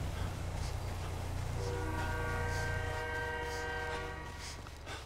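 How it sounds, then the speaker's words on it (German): A video-game train rolling past, a steady low rumble with a sustained horn-like tone in the middle that fades toward the end, heard from a moderate distance with no talk. "Ein Zug."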